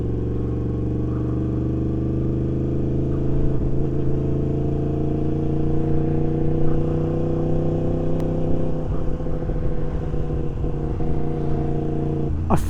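A Yamaha dirt bike fitted with an Akrapovic exhaust holds a steady 3,000 rpm in third gear, its close, even engine drone running unbroken with slight wavering before a small rise at the very end.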